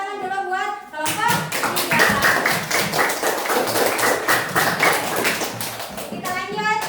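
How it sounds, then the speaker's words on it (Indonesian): Schoolchildren in a classroom clap for a group of classmates, a dense burst of quick, uneven hand claps starting abruptly and running several seconds, close and loud, with a few young voices mixed in before it fades. "Tepuk tangan dulu buat kelompok"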